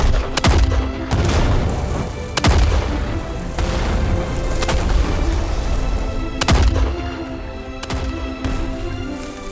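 Gunfire erupts in a tense French short-film scene, with sharp loud shots cracking out in irregular bursts, some close together, over a rumbling background.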